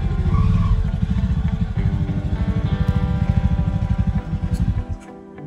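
Close, loud motorcycle engine chugging at low speed in a rhythmic pulse as the bike is ridden into a beach camp at Lalgunj near Kolkata, then easing off near the end.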